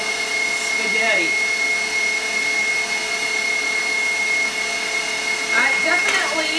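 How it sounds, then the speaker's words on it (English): KitchenAid stand mixer with pasta press attachment extruding spaghetti at a fast speed, giving a steady loud motor whine and hum throughout, with faint voices briefly heard over it. "So, a little bit loud here as we make a little spaghetti."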